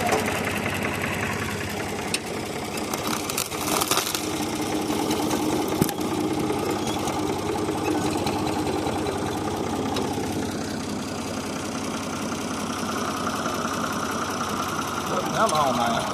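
A Ford 3000 tractor engine runs steadily at a low chugging idle as it maneuvers while digging a basement with plow and scraper blade, continuous and close, with speech over it.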